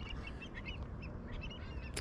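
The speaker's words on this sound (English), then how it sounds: "this flock of birds back here, it's a huge" Large flock of waterbirds, ducks or geese, honking and calling at sunrise, a dense continuous chatter of overlapping calls from some distance over low wind rumble, with no voices.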